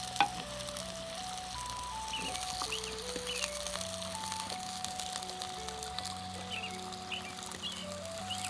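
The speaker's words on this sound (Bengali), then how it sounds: "পেঁয়াজটা আমার এখানে ভাজা হচ্ছে" Chopped onions frying in oil over a clay stove give a quiet, steady sizzle with faint crackles, beneath a looping melodic tune playing in the background.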